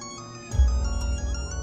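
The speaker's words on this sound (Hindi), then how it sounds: "मम्मी का भी फोन आ गया।" Mobile phone ringtone sounding as a mother calls, a steady electronic melody that starts partway in and rings on loudly and close, with no voices.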